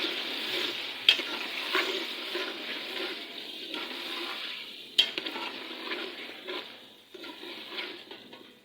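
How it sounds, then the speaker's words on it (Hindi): Tomato and ginger-garlic paste sizzle steadily in a cooking pot while a spoon stirs, with two sharp scrapes or clinks against the pot over a soft continuous frying hiss, close and fairly quiet. "थोड़ी देर इसको कर लेते हैं फ्राई।"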